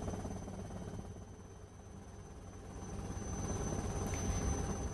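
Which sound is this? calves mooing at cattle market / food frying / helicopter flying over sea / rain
helicopter flying over sea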